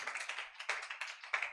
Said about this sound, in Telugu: చప్పట్లు కొట్టి దేవుని నామానికి కనపడద్దాం